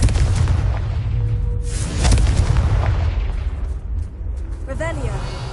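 The Confringo blasting spell in the video game Hogwarts Legacy goes off in loud, close, booming explosions, with a heavy burst near the middle and a deep rumble that carries through to the end.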